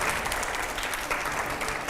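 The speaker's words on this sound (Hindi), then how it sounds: "जोरदार तालियां" Steady, loud applause from a studio audience on a Hindi TV news talk show, dense clapping throughout with no pauses.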